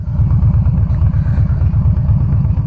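Harley-Davidson Softail Slim motorcycle with a 103ci V-twin engine, a loud, steady, close-up low rumble with a lumpy pulsing beat throughout.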